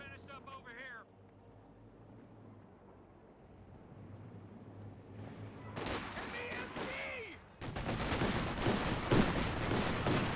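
Bursts of gunfire and machine-gun fusillades crackle in the Company of Heroes 2 battle as an MG34 squad comes under fire, sparse at first and then dense and continuous in the second half, with a voice talking underneath.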